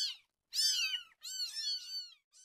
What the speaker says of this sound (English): I got him a kitten.